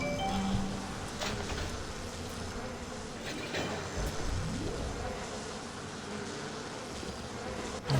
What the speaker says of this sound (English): Watch out for the insects.